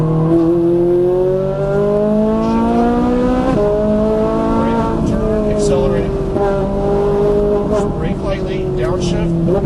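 A Ferrari 458 Italia or Nissan GT-R lapping a Las Vegas racetrack, its engine roaring loud and close from inside the car, pitch climbing and dropping through gear changes, with a voice talking underneath.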